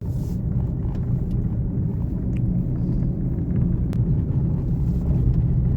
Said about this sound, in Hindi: तो कंटिन्यूसली बहुत ट्रैफिक है।